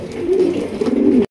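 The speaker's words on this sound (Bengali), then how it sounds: "এটা রাজশাহী গিরিবাজ কবুতর।" A Rajshahi Giribaj pigeon at a pigeon sale coos in a close, steady, throaty rolling call that lasts just over a second and then stops abruptly.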